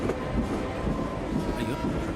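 A train at a railway station gives off a steady, dense rumble with faint rail clatter, and indistinct voices sit low in the mix.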